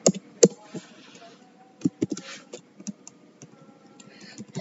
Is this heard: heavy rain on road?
no